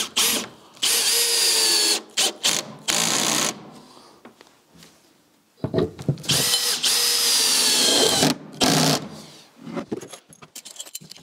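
A power drill drives a longer screw through foam panels during an old house restoration, with several loud whirring bursts separated by short pauses and faint clatter.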